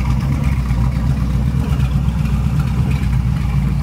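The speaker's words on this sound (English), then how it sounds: "Now it's idling around 950 quite comfortably." A Mercruiser boat engine idles at about 950 rpm, giving a steady, close, low rumble with an even pulsing beat and no talk over it.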